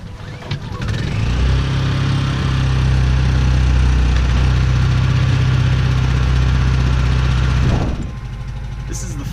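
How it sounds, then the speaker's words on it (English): A brand-new generator aboard a sailboat starts on its first run and settles into a steady, loud droning idle for several seconds before the engine note drops away, with a voice talking over it. "First time we've turned on the generator ever. It's its first startup, and we're letting it warm up"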